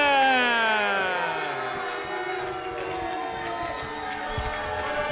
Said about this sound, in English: a mixed reaction from the crowd